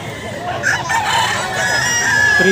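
Roosters crow loudly and close at a crowded pet market in Grotto, with overlapping calls and clucks over a busy background of market noise and people talking.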